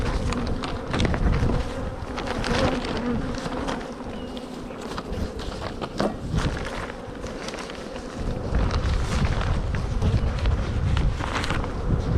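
Close, continuous buzzing of many honey bees around an open hive while it is shut up, gusts of wind roughening the sound and occasional clicks from handling the box.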